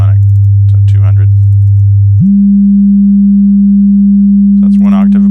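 Steady pure 200 Hz sine tone, the second harmonic above a 100 Hz fundamental, sounding continuously after a lower tone steps up to it, with brief talk over both ends.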